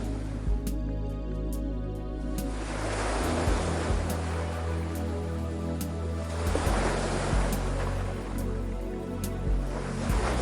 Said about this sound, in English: the soothing sound of waves creating a serene escape